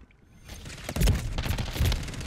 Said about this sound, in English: The weapon is shooting straight.